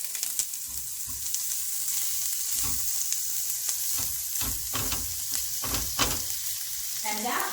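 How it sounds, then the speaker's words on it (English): Chopped bacon and Brussels sprouts fry in a hot pan, a steady close sizzle broken by repeated stirring and tossing clatters, with a faint voice briefly near the end. "the recipe calls for the chopped bacon, okay? And just to mix it up with the Brussels sprouts."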